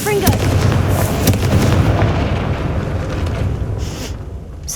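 A Confringo blasting spell fires in Hogwarts Legacy, a loud, sustained rumbling boom that fills the whole moment with dense, crackling low-end roar before easing slightly toward the end.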